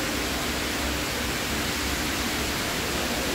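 Water pours down the indoor waterfall at Dubai Mall in a constant, even hiss of falling water, moderately loud and without talk.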